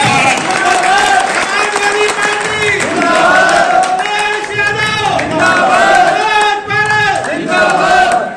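A crowd at a Samajwadi Party workers' rally in Kiratpur claps and cheers loudly and continuously, with voices shouting through the noise.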